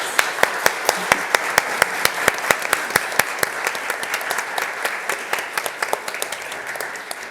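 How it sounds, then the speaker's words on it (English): An audience applauds a panel at a Women in AI event: dense clapping with sharp, regular hand claps standing out, steady and moderately loud for about seven seconds. "Give them a big round of applause."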